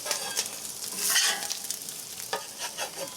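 Smash burger patties sizzle loudly on a hot griddle just after flipping, a steady close crackle with a brief flare of spatter midway and no talk.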